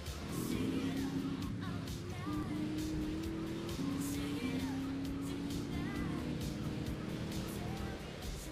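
A car drives in the video game GTA 3, with a sustained engine drone that rises in pitch through several gear changes, mixed with other game noise and faint voices.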